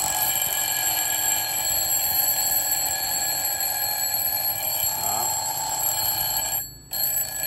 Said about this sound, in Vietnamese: Một cái đồng hồ báo thức con gà